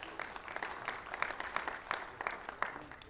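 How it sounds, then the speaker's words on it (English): An audience claps at a candidates town hall forum in Scott County, Arkansas, moderate steady applause with scattered louder claps, somewhat distant and even throughout. "Give them a big applause."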